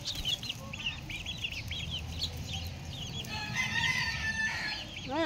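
Bantam chickens and chicks cluck and chirp steadily while being fed outdoors, with a rooster-like call near the end, all close and continuous without talk.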